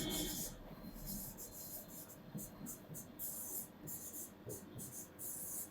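Pen scratching steadily across paper while equations are written out by hand, a continuous close rasp with small pauses between strokes, no talking.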